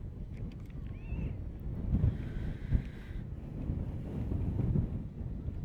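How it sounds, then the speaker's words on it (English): Wind gusts across an outdoor baseball field at night, a steady low buffeting rumble on the microphone that swells and eases throughout, with faint distant tones in the background. "And the wind doing some funny things."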